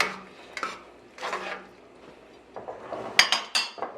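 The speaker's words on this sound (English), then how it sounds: "I'm just going to give it another quick stir" Beef pelau with browned parboiled rice is stirred in a pot, with a few short scraping clinks of a spoon against the metal rim coming in bursts close by, and no talk.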